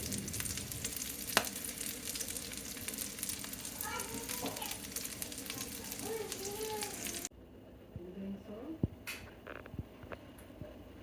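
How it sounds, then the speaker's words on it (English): A vegan burger mixture sizzles steadily in a frying pan, a dense hiss with occasional pops and stirring scrapes, and it drops abruptly to a quieter sizzle partway through. "I simply fry it up and form it into burgers and top them with cheddar cheese."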